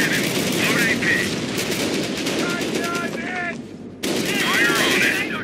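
Rapid machine-gun bursts and gunfire rattle in Company of Heroes, loud and close, with a brief drop before the firing resumes. Voices talk beneath the fire.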